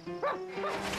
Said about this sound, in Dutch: Goedemorgen, Woefie de hond.